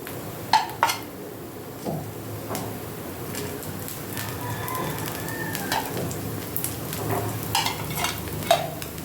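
Rice flour rotti cooks in oil on a hot griddle, giving a soft steady sizzle with scattered scraping and clinks of a utensil against the pan, fairly quiet throughout.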